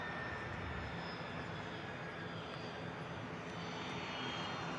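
Steady broadband roar of a business jet's engines spooling up at Manchester Airport, a continuous distant rumble with a faint whine, even in level throughout with no voices.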